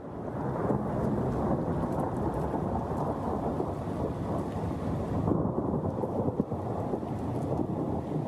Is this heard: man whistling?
no